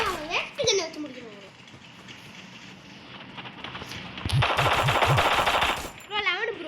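Rapid bursts of automatic gunfire in the Free Fire video game, a short rattling volley standing out, with excited young voices talking over and between the shots.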